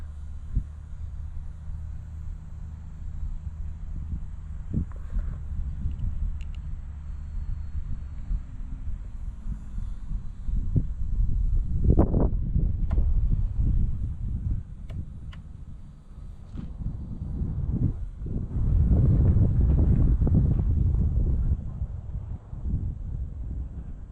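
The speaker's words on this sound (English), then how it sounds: "Ooh, the gusting is really rough." Strong gusty wind buffets the microphone in rough, rumbling gusts that rise and fall, loudest in a couple of heavy surges, during a test flight of an E-Flite UMX Radian model glider.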